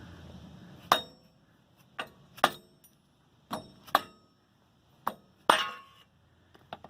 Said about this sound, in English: I'm going to try to beat it out now.